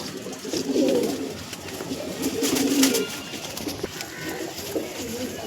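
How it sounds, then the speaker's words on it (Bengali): Andhra breed pigeons coo at a pigeon seller's home in Dankuni, giving repeated throaty bursts that rise and fall close by over a faint, steady background hiss. "এটা আন্ধারা লালসেরাম পায়রা ঢোকানো আছে"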